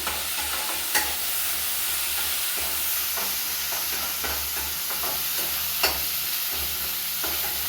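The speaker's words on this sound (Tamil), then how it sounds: "இது வந்து ஸ்மெல்லு போகிற வரைக்கும் நல்லா வதக்கிக்கலாம்" Ginger garlic paste sautéing in a pan for a vegetable biryani, a steady frying sizzle with soft stirring scrapes and a few sharper clinks of a spoon against the pan, close and continuous with no talk.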